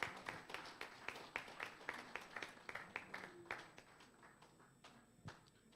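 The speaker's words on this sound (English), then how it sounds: "Round of applause for him" At a creative summit, a sparse audience claps to welcome panelist Efe Omorogbe, distinct individual claps in an irregular patter that thins out and fades toward the end, faint and somewhat distant.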